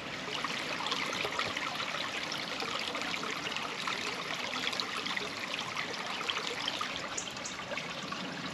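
Water from the Surrey Hills flows into the River Mole near Leatherhead on a chilly day, a steady, gentle babbling and trickling stream heard close but quiet, continuous and unbroken, with no voices.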